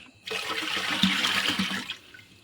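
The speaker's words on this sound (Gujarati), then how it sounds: "ચાલો મિત્રો પાણી નાખી દઈએ અંદર" Water gushes steadily into a Gujarati patra batter of flour mixed with salt, garlic and cumin for garlicky lasaniya patra, a close pour lasting under two seconds before tapering off.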